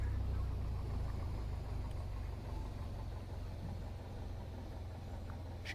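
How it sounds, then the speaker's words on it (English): A Piper Cherokee 180 light aircraft engine idling at low throttle, a steady low drone heard from inside the cabin with no talking. "throttle down and check the idle here real quick"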